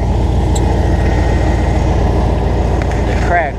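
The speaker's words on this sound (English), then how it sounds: "F-150's got a little bit of exhaust leak." A Ford F-150 with a cracked exhaust manifold idles steadily and loudly close by, a rough continuous engine drone with a faint ticking leak, and the pitch falls slightly at the end.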